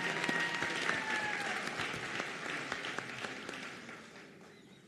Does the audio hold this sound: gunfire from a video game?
no